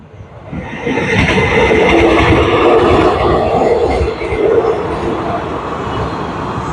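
Train number 45 rumbles loudly past a level crossing, a dense roar of wheels and engine that stays strong throughout.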